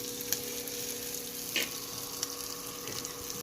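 Bacon and ham dredged in flour and brown sugar fry in a pan, a steady close sizzle with a few sharp pops and spatters, no voices.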